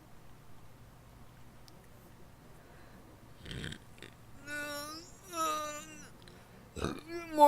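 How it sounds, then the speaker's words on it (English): Groggy morning burps after a night of eating chips, a few low croaky belches and throaty grunts, one gurgling belch near the end, close and fairly quiet against near silence. "Morning burps."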